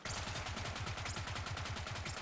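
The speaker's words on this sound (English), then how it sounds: "when you reload it will fly around firing loads of little bullets, return back and explode" Gunerang gun in Borderlands 3 loosing a rapid stream of little bullets, a fast even rattle of sharp shots that carries on without pause for a couple of seconds.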